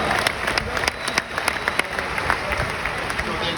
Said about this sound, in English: If you can give him a nice round of applause for putting this all together as well.